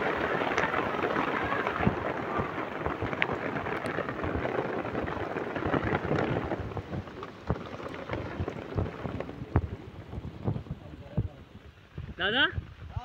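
Rain pours steadily in a village, with dense patters and drips on surfaces. Loud at first, it thins later, and a short tonal sound comes near the end.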